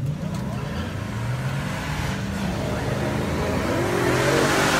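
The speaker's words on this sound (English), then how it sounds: "Crazy race on their way down the track there." Drag race cars at Music City Raceway accelerate down the strip, a sustained engine roar rising in pitch from a distance, with a commentator's voice running over it.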